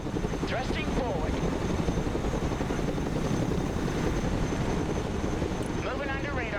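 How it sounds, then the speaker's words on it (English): A Chinook military helicopter in the Broken Arrow war game flies with a continuous, loud rotor roar and rushing wind, while a voice speaks over it. "Let's go and recover it with our helicopter."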